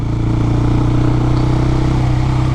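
Husqvarna 401 motorcycle with a decat exhaust ridden at low revs, giving a steady, loud, close engine burble with an even pulsing rhythm and no talk.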